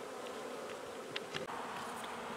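Steady buzzing of honey bees during spring feeding with pollen substitute powder, a dense close hum with a few brief louder passes near the middle, no voices.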